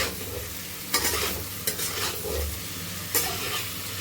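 Paneer pieces and vegetables sizzling steadily in a pan, with a few sharp scraping stirs standing out over the continuous frying hiss.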